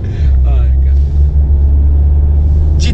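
A car engine of the 180-horsepower version pulls away uphill on a snowy road: a loud, steady low rumble that strains and holds. Brief voices speak over it near the start.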